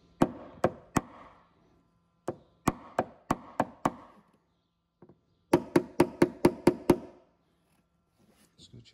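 Sharp metallic taps from a tap-down tool working out a dent in an Audi RS 3 panel, in quick bursts, a handful at a time with short pauses between, close and crisp in a quiet room.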